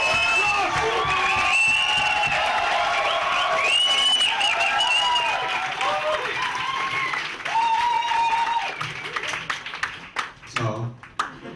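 Comedy club audience at a stand-up night applauding and cheering loudly, with steady clapping, whoops and shouts building across the room, then thinning to scattered claps and voices near the end.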